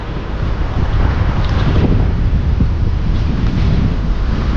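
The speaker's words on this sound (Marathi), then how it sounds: "लाटा जास्त आहेत बघू शकता समोर लाटा भरपूर येतात आणि वाराची दिशा आहे" Heavy sea waves wash against a muddy shore while strong wind roars across the microphone, a loud, continuous close-up rush with no talk.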